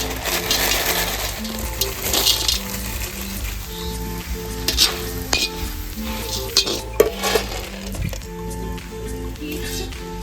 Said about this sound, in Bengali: তো প্রথমে বড়িগুলো ভেজে তুলে নেব।